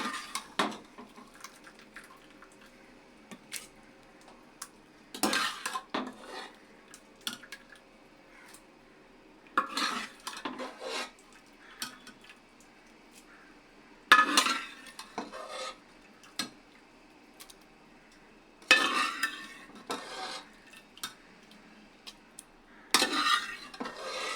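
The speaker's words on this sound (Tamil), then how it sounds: "சூடோடையே கடையணும் அப்போ தான் நல்லாயிருக்கும் கடைஞ்சிட்டேன்" Cooked pasalai spinach being mashed in a pot with a utensil gives faint, intermittent squishing and scraping strokes with metallic clinks, spaced out over quiet stretches.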